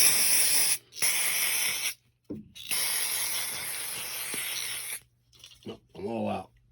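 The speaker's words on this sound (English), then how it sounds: "just kind of do a quick spray of the whole thing" Aerosol brake cleaner hisses over a push mower carburetor in long, loud bursts broken by brief pauses, with a short rattling sound near the end.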